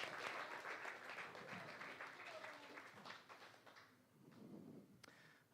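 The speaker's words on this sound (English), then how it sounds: "Give them a round of applause as they come on up to this stage." A live magic show audience gives a brief round of applause, fairly faint and fading over a few seconds as volunteers head to the stage, with voices and shuffling underneath.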